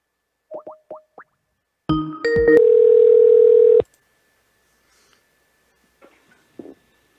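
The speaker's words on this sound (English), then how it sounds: "We're going to call Chris." A telephone call being placed from a radio studio: a few short key beeps, then a burst of dialing tones and a steady tone of about two seconds, followed by near silence with faint clicks.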